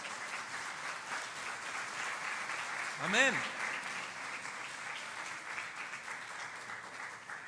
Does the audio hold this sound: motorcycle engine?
no